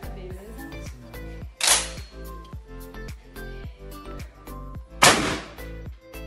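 An Italian Fausti 12-gauge shotgun fires two loud, sharp blasts a few seconds apart, each a brief broadband crack over steady rhythmic background music.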